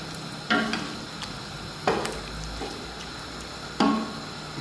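Four large chopped tomatoes frying and being stirred in a pot for Sindhi biryani: a steady soft sizzle broken by three distinct scraping stirs, close and fairly quiet.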